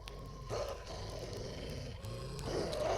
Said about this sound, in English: Barking coyotes in the distance.